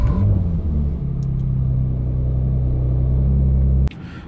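A Bentley Continental GT W12 idles with a deep, steady engine rumble and a brief rev at the start. The low drone holds evenly for several seconds, then cuts off abruptly near the end.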